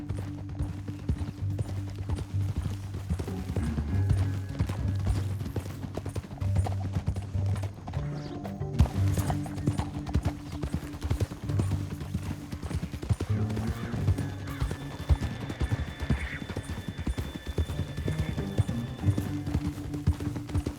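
Horse hooves clip-clop steadily in Red Dead Redemption 2, a continuous rhythmic trot heard through a canyon ride with a low musical score and occasional whinnies, no talking over it.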